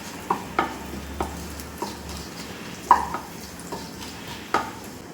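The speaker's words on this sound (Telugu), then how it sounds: "చిట్పట్లు ఆడుతున్నాయి" Whole spices — cumin, cardamom, cinnamon, star anise and cloves with bay leaf — spluttering in hot oil, a steady low sizzle broken by several sharp pops and crackles spread across the clip, close and moderately loud, with no talking.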